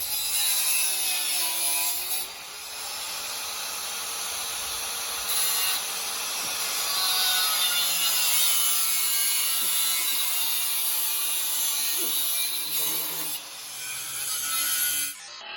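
Cutting tool slicing through rusted body metal on a VW Baja Bug wheel house: a loud, steady, high-pitched grinding and rasping rises and falls in pitch for about fifteen seconds, close up, with no talking.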